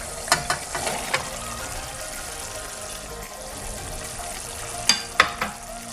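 Potatoes and green beans sizzle in a hot pan for a dry fish curry, a steady crackling hiss broken by a few sharp spatters and stirring knocks near the start and end.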